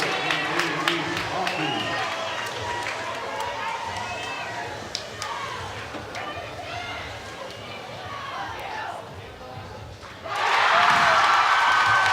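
Crowd at a high school boys varsity basketball game during a free throw. A murmuring, noisy crowd sits under continuous announcer talk, then erupts into a loud cheer in the final couple of seconds.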